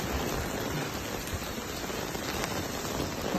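Heavy rain beats down in a continuous, loud, even hiss of countless drops striking surfaces, with no other sounds breaking through.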